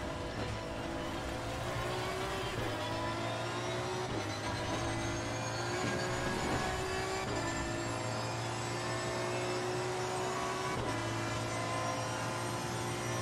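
Race car engine in Assetto Corsa Competizione leaving the pits, a continuous droning hum that rises in pitch through repeated gear shifts, steady and fairly loud with nothing else over it.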